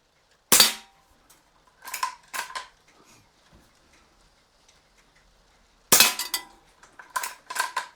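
A KJWorks M700 gas airsoft sniper rifle fires outdoors at a metal target. Two sharp gas shots ring out several seconds apart, each followed by bright metallic pings as pellets strike the target. No one speaks.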